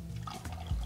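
Altos Olmeca tequila poured into a glass for a Batanga cocktail: a short, soft liquid trickle and splash, close by and fairly quiet, with no talk.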